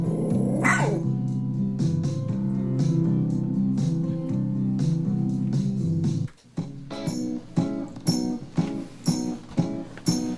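A dog at a dog daycare barks loudly and repeatedly in sharp bursts, with some yips and growls. The barking starts in a dense, continuous stretch, then breaks into separate rhythmic barks after a brief drop.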